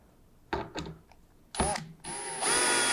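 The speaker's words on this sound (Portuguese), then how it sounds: "Daí é só segurar e parafusar." A power drill drives screws through a reinforced back panel into a countertop cabinet, with short ratcheting bursts up close, then a sustained high-pitched whir that grows louder toward the end.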